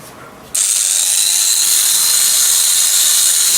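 A small NEXO angle grinder-engraver fitted with a 45 mm disc switches on with a sudden jump into a loud, steady high-pitched whine that holds evenly, close by and with no talking.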